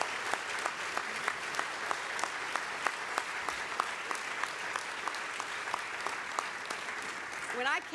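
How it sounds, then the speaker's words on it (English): An audience at a portrait unveiling claps in sustained, even applause, a dense wash of handclaps with a few sharper individual claps, lasting throughout before a voice begins at the very end. "I want to give a round of applause to those who are the heart of our diplomacy and"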